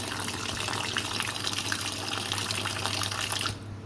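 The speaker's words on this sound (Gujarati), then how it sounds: "હવે એમાં હું પાણી એડ કરીને એને એને પલાળી દઈશ" A steady stream of water gushes and splashes into a container of washed fenugreek seeds, loud and continuous, then cuts off abruptly near the end.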